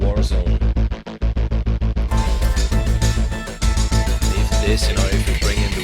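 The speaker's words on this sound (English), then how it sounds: "It's a pulse from the Devastator Warzone." The Devastator Warzone synth plugin plays in a cinematic piece: a rhythmic pulse of rapid, evenly spaced hits, first sparse and then joined by a dense, sustained layer of harmonic texture. The sound is loud and continuous and carries no speech.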